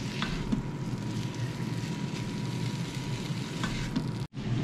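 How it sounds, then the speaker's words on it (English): Steady crackling sizzle of chicken thighs frying with onion and garlic in a pan, continuous and close, with a brief scrape near the end. "they've been frying off for about 5-10 minutes"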